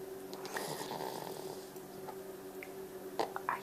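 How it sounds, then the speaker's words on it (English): Soft, steady snoring close by, a low rattling breath that repeats quietly with a few small snorts and no talking. "Are you snoring?"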